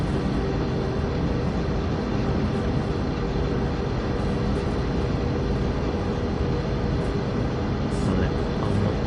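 A freight train rumbles steadily down Cajon Pass in the Train Sim World 3 video game, with a constant, heavy, low engine and wheel drone throughout.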